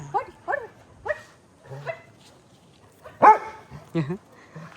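Small puppies yip and bark in short, high bursts, several in a row with pauses between, close by and fairly clear.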